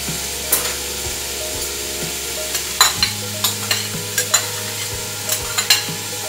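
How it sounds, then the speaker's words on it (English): Peppers and onions sautéing in a hot pot, a steady soft sizzle running throughout with repeated scraping and clacking stirs that grow more frequent in the second half; no one speaks. "I'm gonna saute this for a little bit in here."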